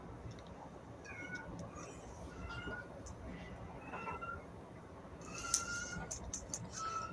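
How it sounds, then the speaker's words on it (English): A cat meows several times in an indoor setting, the short calls coming and going close by over steady background noise, with a louder cluster of cries near the end. "I hear a kitty."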